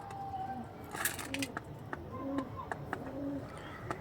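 Pigeons from a breeder's stock coo repeatedly in soft, low rolling calls over a steady background hum, with a few sharp chirps and clicks mixed in.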